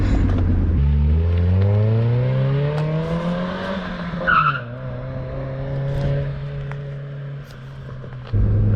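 A Mazda MX-5 revs through a corner with heel-toe downshifts, its engine note rising and falling steadily close by, a brief tire squeal cutting in near the middle before the revs swell again at the end.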